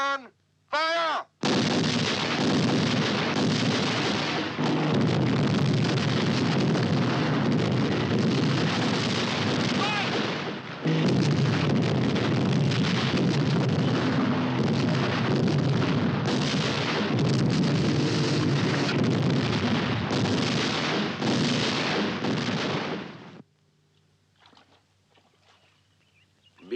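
A battery of field artillery fires a sustained barrage in a 1969 El Alamein war film, loud dense booms rolling continuously for over twenty seconds before cutting off abruptly.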